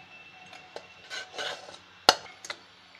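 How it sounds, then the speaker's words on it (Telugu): Coconut mixture being stirred into cooked rice, with soft scraping and a few sharp clinks of a spoon against the pot, a single louder clink standing out midway. "ఇది తీసుకెళ్లి అన్నంలో కలుపుకుందాం"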